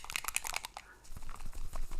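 A small hobby paint dropper bottle shaken by hand, its mixing ball stuck at the bottom, giving a quick run of close, sharp clicking rattles that thin into softer rustling.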